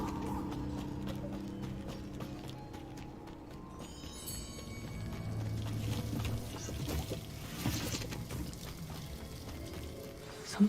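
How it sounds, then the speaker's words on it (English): A waterfall in a video game gives a steady rushing wash of water at moderate loudness. A rhythmic clopping runs through it, like hooves, and the noise swells slightly in the second half. "The waterfall."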